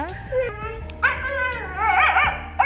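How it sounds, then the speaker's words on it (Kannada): A tied-up dog barks, yelps and whines in quick, excited bursts nearby, its cries rising and falling in pitch. "ಹೋಗಿ ನೋಡ್ಕೊಳ್ಳಿ ಹೆಂಗೆ ಬೊಗಳುತ್ತೆ ಅಂತ"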